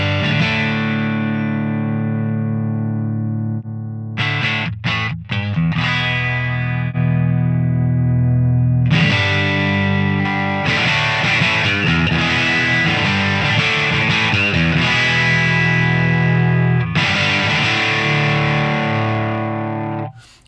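Electric guitar played through the bass channel of a Genome amp model, loud and distorted, with sustained chords and short choppy bursts before ringing strummed passages that swell and fade at the end.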